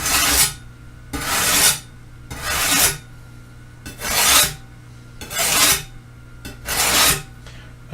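Kitchen knife drawn across a budget sharpener in six rhythmic rasping strokes, each a loud broadband scrape about half a second long with brief pauses between, close and alone with no talk.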